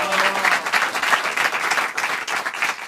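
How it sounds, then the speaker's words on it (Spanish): An audience at a comedy show applauds, dense steady clapping from many hands that holds throughout at a fairly loud level. "Fuerte el aplauso para mi dentista, Daniel."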